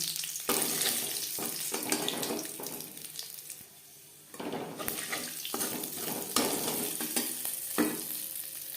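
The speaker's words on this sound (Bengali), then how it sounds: "কড়াইতে আবারও তেল দিয়েছি দিয়ে দিলাম পাঁচফোড়ন শুকনো লঙ্কা" Panch phoron and dry red chillies fry in oil in a kadai, giving a quiet, continuous sizzle with intermittent stirring scrapes and clinks.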